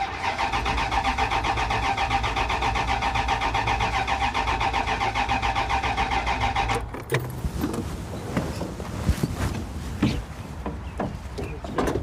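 An old engine, freshly fueled with new gas after a carburetor cleaning, cranks and catches, running steadily and loud for several seconds before cutting out, followed by faint clunks and handling noises.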